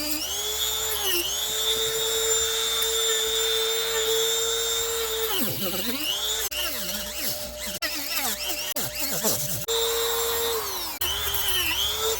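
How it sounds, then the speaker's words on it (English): A high-pitched rotary power tool whines steadily while trimming fiberglass on a 2015 Mitsubishi Lancer undercar shield, its pitch dropping and wavering as it bites into the material, then recovering, loud and close. "now I'm going to trim the fiberglass before painting"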